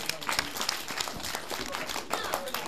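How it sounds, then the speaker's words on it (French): At a children's club event, an audience applauds to measure its vote, with brisk, dense clapping throughout and faint voices mixed in. "applaudissons à l'applaudimètre"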